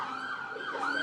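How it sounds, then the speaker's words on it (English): A fire truck siren passes at a moderate distance, a continuous wailing tone that rises and falls in pitch over about a second, with faint road noise beneath. "It's a fire truck and that."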